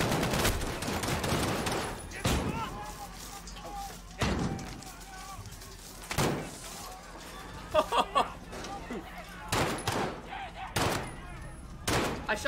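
Call of Duty Modern Warfare gunfire cracks out in sharp, loud bursts and single shots scattered across the stretch, with voices talking over and between the shots.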